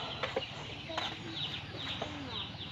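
Chickens cluck softly in short bursts against a steady background hiss, with a few sharper calls rising out of the noise.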